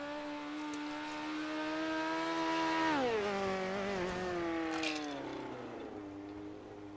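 A lone midget race car circles a dirt track, its engine whining steadily and then dropping pitch as it backs off through a turn, fairly distant and without any talk.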